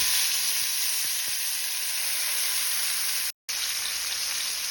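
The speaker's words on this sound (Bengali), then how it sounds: "এবার একটা প্যান গরম করে আমি মাছগুলো একটু হালকা ভেজে নেব।" Pomfret fish lightly frying in a hot pan, a steady loud sizzle with faint crackles that holds throughout, broken only by one brief silent gap near the end.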